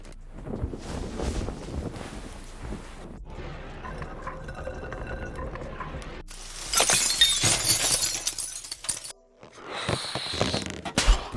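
A designed glass-shattering effect in a sound design mix: rough crunching textures give way to a loud, bright burst of breaking glass, followed by a brief pause and a second tinkling, shimmering shard-scatter tail.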